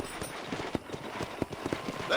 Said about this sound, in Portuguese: Vamos chamar aqui nosso cavalo.